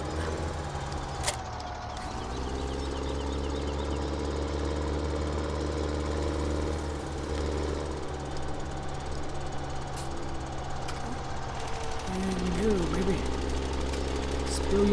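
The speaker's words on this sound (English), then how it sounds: "Tractor on." A tractor engine in Farming Simulator 2017 starts up and settles into a steady, droning idle with a low, constant rumble that runs throughout.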